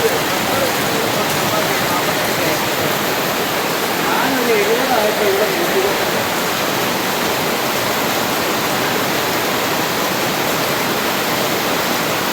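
Heavy rain pours down in a dense, steady hiss that fills the whole stretch, loud and unbroken, with faint voices under it.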